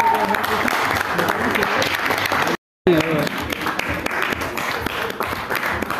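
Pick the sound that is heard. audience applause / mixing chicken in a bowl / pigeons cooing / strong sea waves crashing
audience applause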